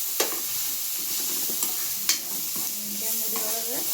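Eggplant frying in oil for a North Karnataka stuffed eggplant dish, a soft, steady sizzle with a few sharp clicks of a utensil against the pan and a faint tonal sound near the end.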